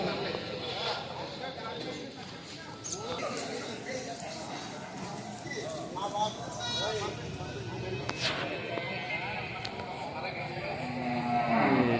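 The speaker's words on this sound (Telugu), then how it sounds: "ఇంగ్లీష్ ఆవులు వచ్చాయి, గేదెలు కూడా వచ్చాయి." Cows and buffaloes low repeatedly at a busy cattle market near Rajahmundry, Andhra Pradesh, amid crowd noise, while someone talks through most of the clip.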